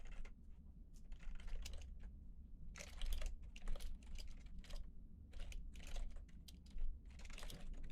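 Quiet, steady typing of code on a computer keyboard, with rapid clusters of key clicks broken by short pauses, close and soft, no voices.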